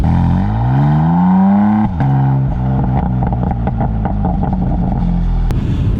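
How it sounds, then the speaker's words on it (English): A 2018 BMW M4 Competition with an M Performance exhaust accelerating hard, the engine note climbing loudly through the revs, then cutting briefly at a gearshift before pulling again. "And this M4 competition also has an M Performance exhaust."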